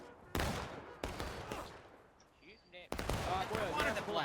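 Sharp musket volleys crack in a multiplayer Civil War game, several loud shots in a ragged series with a rumbling din between them, while voices speak over the fighting.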